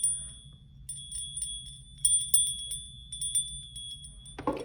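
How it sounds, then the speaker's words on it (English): A small bell struck several times in a quiet room, its bright ringing tones sustaining between strikes, with a louder clatter at the very end. "That means we get to ring the bell 4 times."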